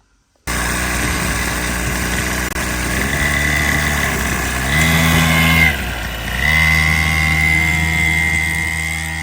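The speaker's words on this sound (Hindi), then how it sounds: "2 स्ट्रोक इंजन है, पेट्रोल है तो पेट्रोल में ताकत होती है पेट्रोल इंजन में।" A 2-stroke petrol engine runs steadily in a farm field, a loud close drone with strong low harmonics that dips briefly and then picks back up, with no talking.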